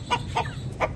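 A Turkish intercross rooster gives three short, close clucks spaced evenly over a second, each a sharp nasal burst above a low background rumble.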